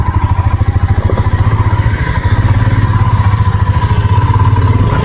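An off-road KTM motorcycle ridden standing up on a mountain trail near Triund, Dharamshala, its engine loud and close with a steady pulsing thrum that holds through the whole stretch.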